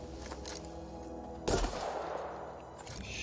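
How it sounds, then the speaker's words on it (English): A single loud shotgun blast in the video game The Outer Worlds breaks through a steady hum, followed by a short rolling decay and a faint rattle, with no talking. "Shotgun."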